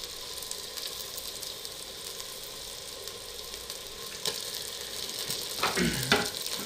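Steady loud sizzle of meat frying with browned onions in a handi for Afghani-style aloo gosht, with occasional stirring scrapes toward the end and no talk.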